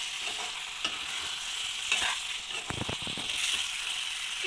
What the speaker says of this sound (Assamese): মই এবাৰ লৰাই দিম।